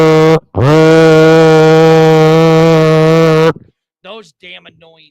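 A voice imitates the long, blaring drone of plastic noisemaker horns blown by fans at football games: a short blast, a brief gap, then one sustained buzzing tone of about three seconds, followed by a few quieter vocal fragments.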